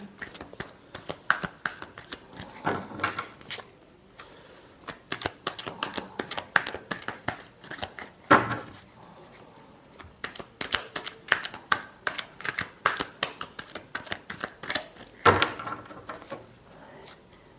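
Tarot cards shuffled by hand during a reading: rapid, close riffling and slapping bursts repeat in steady clusters throughout, with a few sharper snaps between them and no talk over the shuffling.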